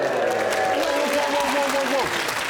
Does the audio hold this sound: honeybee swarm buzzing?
no